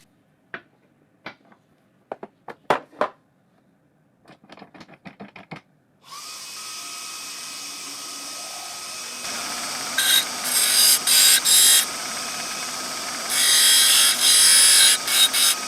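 A bench grinding wheel spins up and grinds a jagged, snapped-off edge on a lathe part smooth, the steady whine rising into several loud, rough grinding passes after a few sharp taps at the start.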